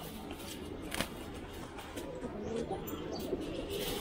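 Racing pigeons and their young in a loft give soft, low cooing amid light shuffling and wing flutters, fairly faint and close, with no clear talk.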